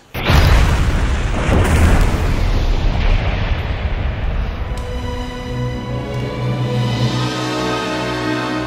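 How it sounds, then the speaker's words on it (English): A spaceship smashed by planetary debris in Lost in Space explodes with a sudden loud boom, then a long rumbling roar that fades into sustained tones. "the ship with his family is destroyed by the debris of the planet"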